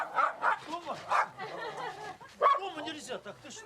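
Several dogs bark repeatedly at a snow tiger in short yapping bursts with whimpering yips in between, close and fairly loud, while a voice talks over them.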